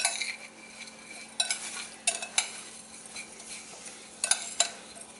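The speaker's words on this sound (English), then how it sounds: "just blend this all together" Crumbled feta cheese being stirred into a zucchini filling with a utensil, giving soft scraping and clinking strokes in short bursts at close range, with no talking.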